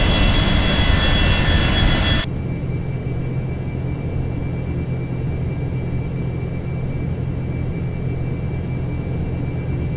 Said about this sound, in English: Just flying this wonderful 727